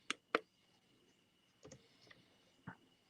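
Typing on a computer keyboard: a few sparse, sharp clicks and taps spread unevenly over a few seconds, faint and close, with quiet room noise between keystrokes.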